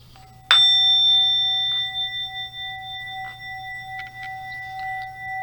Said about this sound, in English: I like to use this when I have a singing bowl for each of the chakras